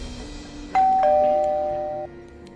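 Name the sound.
doorbell ringing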